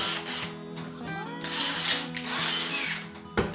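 A power drill fitted with an arbor and hole saw cuts into plastic, its motor whining with shifting tonal harmonics and a grinding, scraping bite, loud and close with no talk.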